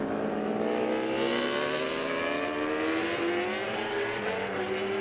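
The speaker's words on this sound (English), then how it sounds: "you can really hear the revs that the inline 4-cylinder Suzuki has on SDK's bike, Hannah." A Suzuki inline four-cylinder superbike engine screams loudly and continuously during a race at Road Atlanta, its pitch climbing steadily throughout as it accelerates.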